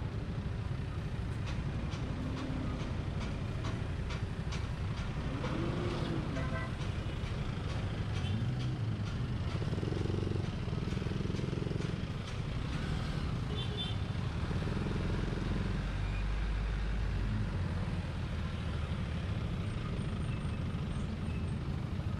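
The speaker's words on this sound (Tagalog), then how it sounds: "Traffic lang talaga masyado dito." Heavy road traffic in Iligan City center, Lanao del Norte: a continuous close rumble of trucks and other engines passing by, with occasional brake hiss and swells as vehicles move through.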